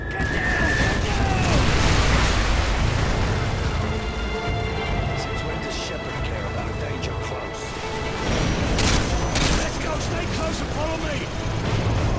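Artillery barrages thunder in the Call of Duty: Modern Warfare 2 video game, loud overlapping booms and rumbling blasts mixed with game sound effects, while voices talk over the din.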